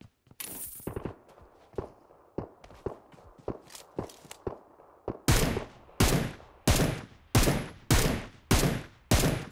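Gunfire in the mobile battle-royale game PUBG Mobile: a scatter of sharp single shots and bursts, then a loud, evenly spaced run of heavy shots near the end, close and punchy with no talk.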